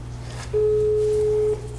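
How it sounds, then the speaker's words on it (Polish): A single steady electronic telephone tone sounds for about a second, clear and moderately loud over a low background hum, as a call goes unanswered. "On nie odbierze telefonu, zaczyna materiał."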